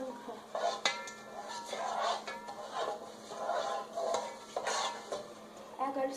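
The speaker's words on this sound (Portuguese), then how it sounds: "Agora vocês vão mexer até dissolver tudo." A spoon stirs rice in a pot of water, giving soft repeated scraping and swishing strokes with faint clinks against the pan, close and fairly quiet.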